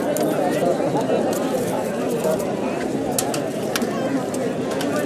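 Pigeons coo and flutter among a busy flock at the Rahim Yar Khan pigeon market, soft warbling calls layered with rustling and a few sharp chirps, close and continuous.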